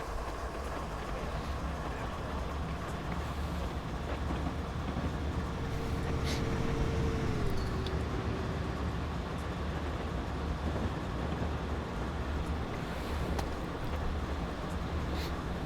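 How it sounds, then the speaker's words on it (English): A passing train in a train simulator game produces a constant, loud rolling rumble and rattle of wheels and wagons, with a brief horn-like tone sliding downward partway through and faint clanks above the roar. "Here comes another train."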